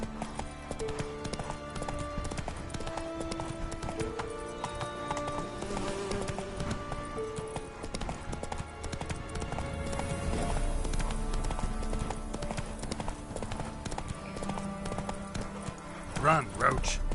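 Roach, the horse in The Witcher 3, gallops with fast, continuous hoofbeats beneath game music and a man's spoken lines.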